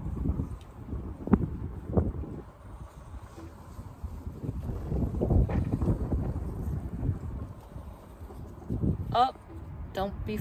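Gusty wind buffets an outdoor microphone in a backyard with a goose and chickens, low rumbling bursts rising and falling throughout while someone talks and birds call faintly now and then.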